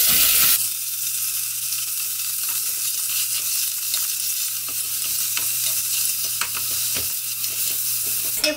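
Beef stir-fries in a pot for radish soup, a loud, dense hiss of sizzling that starts abruptly and stays steady, with occasional clicks and scrapes of stirring.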